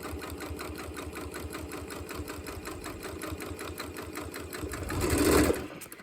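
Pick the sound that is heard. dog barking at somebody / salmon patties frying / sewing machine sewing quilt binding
sewing machine sewing quilt binding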